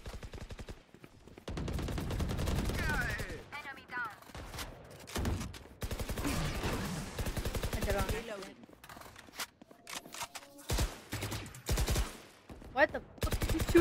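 Bursts of rapid gunfire in the tactical shooter game Valorant, short rattling volleys and single cracks scattered between stretches of excited talk, with in-game voice lines overlapping.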